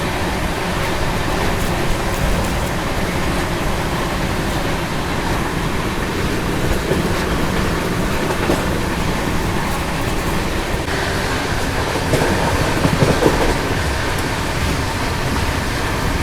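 The Gaya-Delhi Mahabodhi Express runs fast on its rails, a steady loud broadband roar and rumble heard from inside the moving passenger train, continuous for the whole stretch without talk.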